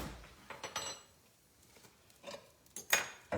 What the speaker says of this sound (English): I'm gonna move my skillet of gravy over here.